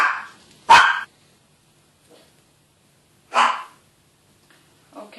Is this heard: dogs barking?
yes